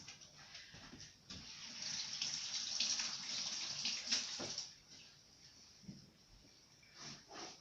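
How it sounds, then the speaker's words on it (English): Running tap water while someone washes their hands at a kitchen sink during broth-making, a steady broadband splashing rush that swells and fades over several seconds, close and moderately loud with no talking. "Let me wash my gross hands."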